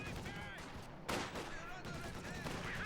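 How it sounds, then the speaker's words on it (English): T-34 tank under fire in Company of Heroes 2, bursts of rapid gunfire and a sharp blast mixed into constant battle noise, with a voice talking over it. "T-34 is pushing forwards. And it's being shot to bits there."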